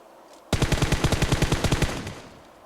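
A burst of automatic gunfire in PUBG Mobile rattles off about a dozen rapid, loud shots in an even rhythm, then cuts out, with no voices.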